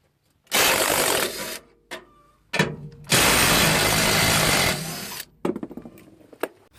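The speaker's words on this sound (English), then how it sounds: "It's a impact driver, so it might be pretty loud too." An impact driver removes lift bolts on a Chevrolet Silverado, giving two loud close bursts of rapid hammering, each about a second or two long, followed by several short stuttering blips.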